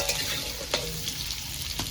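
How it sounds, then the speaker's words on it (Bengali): Potatoes fry in hot oil and are turned with a spatula. A constant close sizzle runs throughout, broken by two distinct scraping strokes. "আলুটা ভালো করে নেড়ে চেড়ে ভেজে নেব"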